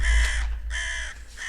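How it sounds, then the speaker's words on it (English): Crows caw in three harsh, evenly spaced calls, near and loud, against a low rumble, with no voices. "Flippin' stupid birds."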